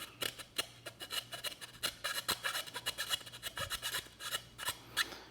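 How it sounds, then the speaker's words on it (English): A hand file rasps through holes in a carbon fiber grill trim cover for a C8 Corvette, quick scraping strokes in an uneven rhythm, close and fairly quiet with no talking. "I'm just going to run a file through there real quick, just to kind of clean up these holes"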